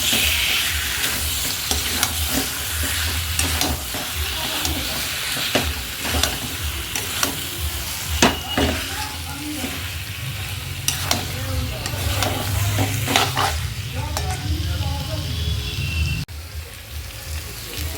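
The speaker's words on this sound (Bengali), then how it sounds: "মশলার সঙ্গে চিকেনটা খুব ভালোভাবে কষিয়ে নিতে হবে।" Chicken stir-fried with spice masala in oil, a continuous close sizzle with frequent spatula scrapes and knocks against the pan throughout.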